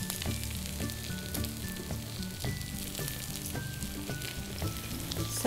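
Rava dosa sizzles and fries steadily in oil on a hot pan, a close, continuous crackling hiss with no voices.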